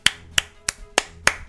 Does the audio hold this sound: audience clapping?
yes